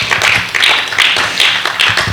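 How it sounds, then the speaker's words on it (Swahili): A church congregation claps together for Jesus in a loud, rhythmic burst of handclaps with a steady beat, close and energetic. "Pigia Yesu makofi mazuri kabisa."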